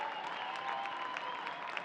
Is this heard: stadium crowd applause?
yes